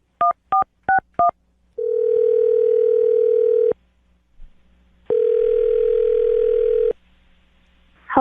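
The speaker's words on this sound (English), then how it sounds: "I'm going to dial the phone number right now," A telephone dials a number with four quick touch-tone beeps, followed by two long ringback tones separated by a pause, crisp and close with no talking.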